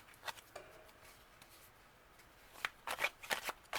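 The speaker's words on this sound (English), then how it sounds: "while I'm shuffling the cards" A deck of tarot cards is shuffled close by in a quiet room, with soft riffling bursts that grow denser and quicker toward the end.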